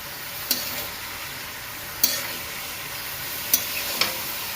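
Patra rolls are stirred into a boiling pot, with four sharp spoon taps against the rim at regular intervals over a steady background hiss.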